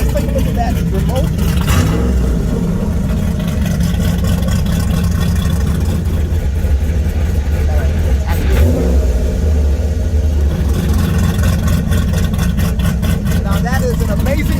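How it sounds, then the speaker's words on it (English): A Pontiac Fiero revs through remote-controlled exhaust dumps, its deep, loud engine rumble rising and falling in bursts over a steady low drone, with people talking throughout. "Now that is an amazing feature added to this car where we have remote control exhaust dumps."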